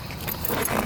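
Car keys jangle briefly and close by, a quick bright metallic rattle lasting under a second.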